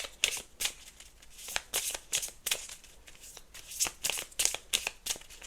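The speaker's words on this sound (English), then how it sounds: "I just randomly picked them up and started shuffling." Spirit guide cards being shuffled by hand, a run of quick, crisp riffling bursts and soft slaps in an uneven rhythm, close and fairly quiet with no talking.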